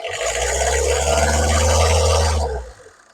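A used 2011 car's engine runs steadily with a deep low hum and broadband whir for about two and a half seconds, then cuts off abruptly into quiet.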